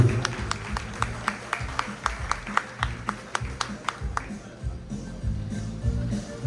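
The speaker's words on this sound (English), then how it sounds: "Give me a round of applause, ladies and gentlemen, for Andrew." Audience at a Tejano music awards ceremony claps for an honoree, with sharp, rhythmic individual claps standing out over scattered applause and background murmur, tapering off after about four seconds.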